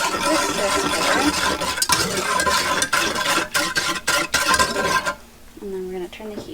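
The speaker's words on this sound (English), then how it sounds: "And we're going to take our 90 grams of sugar. And there we go. And we're going to whisk this together." Sugar being whisked into a flan mixture in a bowl, rapid rhythmic clicking and scraping strokes up close for about five seconds, then quieter with a voice speaking.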